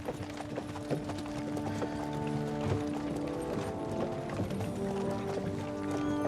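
Horse hooves clip-clop steadily in Kingdom Come: Deliverance 2, a continuous rhythmic plodding set against a dense game soundscape with tonal hum and faint mechanical clicks.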